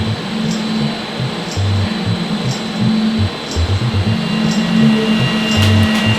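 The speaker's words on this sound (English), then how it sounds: "we're going to apply that vacuum to be able to draw air out" Vacuum pump drawing air from an envelope bag around a carbon bicycle frame in a curing oven: a steady mechanical hum with a pulsing low drone and faint intermittent ticks, loud and close throughout.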